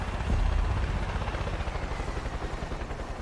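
Helicopter in Far Cry 5 approaching, a steady low rotor thrum with dense rhythmic chopping that stays loud and continuous, swelling slightly early then holding.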